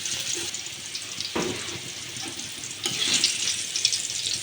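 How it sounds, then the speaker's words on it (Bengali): Sweet pumpkin slices fry in a pan, giving a steady close sizzle with a few soft stirring and turning clunks, and the sizzle swells louder near the end. "উল্টিয়ে পাল্টিয়ে ভেজে নিচ্ছি"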